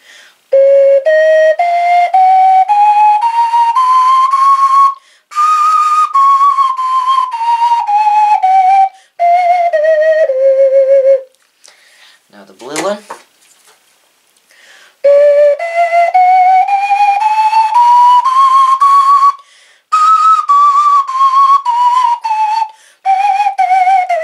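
An ocarina plays simple scales, the pure whistle-like tone stepping up and back down through the notes in several loud, clear runs. Brief pauses separate the runs, and a short noisy gap falls near the middle.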